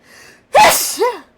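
A single loud, close sneeze with a short gasping intake before it and a fading exhale after, heard on its own with no talking.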